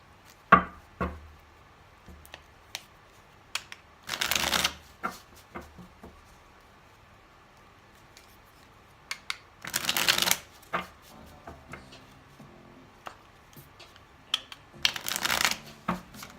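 A Vice Versa tarot deck is shuffled in three separate riffling bursts, with light taps and card handling between them. The sound is quiet and close with no talking.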